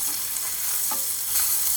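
Beef burger patties fry in a pan with a steady, close, loud sizzle and crackle, no voices over it.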